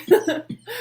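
A person coughing and choking on spit: three short, sharp, throaty bursts in quick succession, close and loud.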